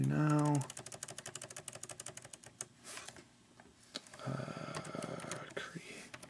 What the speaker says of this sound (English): you can take that out and type in whatever you like